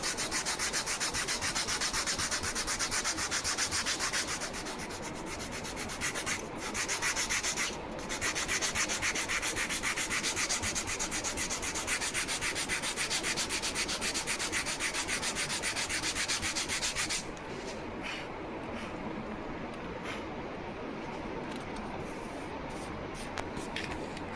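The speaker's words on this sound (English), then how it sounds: "flip the part on other side and start sanding, holding your sanding block at the same angle" A sanding block rubs steadily back and forth over a balsa wood part for a static model aircraft, a continuous close scratchy hiss with a brief pause partway and a softer stretch near the end.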